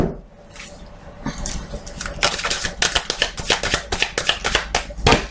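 Tarot cards being shuffled by hand at close range, a fast run of crisp riffling snaps that grows denser and louder through the second half, with no voices.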